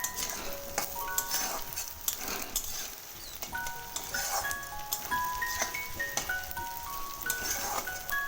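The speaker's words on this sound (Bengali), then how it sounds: "যার কারণে আলুটা আমরা খুব ভালো করে অনেকক্ষণ ধরে লাল করে ভেজে নেব" Potatoes frying in a pan over a raised gas flame, a continuous close sizzle with occasional stirring scrapes and clinks, and faint tonal sounds running underneath.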